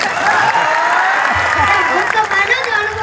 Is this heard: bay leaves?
no